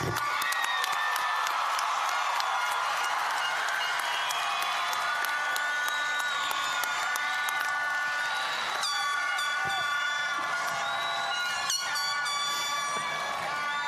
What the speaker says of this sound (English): Can we just give one more round of applause to all our graduates?